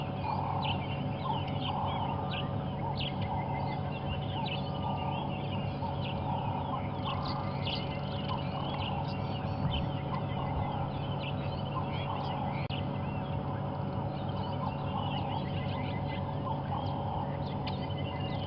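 A dense chorus of birds, including turtle doves and bush shrikes, calls and chirps continuously in the bush at sunrise on safari, mixed trills and whistles near and far, with a steady hum of outdoor ambience beneath.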